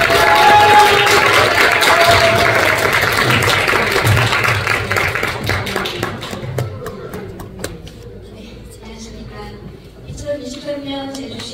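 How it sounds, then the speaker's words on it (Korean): A hall audience at a Jeju City report meeting on community integrated care for people with disabilities breaks into loud, dense applause that holds for several seconds, then thins into scattered individual claps and fades out. "미인이 바로 큰 박수로 환영 부탁드립니다."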